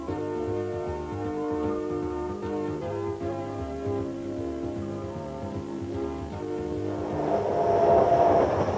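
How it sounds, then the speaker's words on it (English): A New South Wales Government Railways steam train from around 1959–62 rumbles forward in a steady, heavy drone that swells louder toward the end as it storms past. "The train backed up and stormed forward past the photographers."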